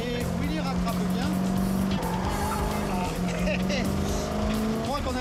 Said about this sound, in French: Alors je vous explique, il y a le cul qui part et Willy rattrape bien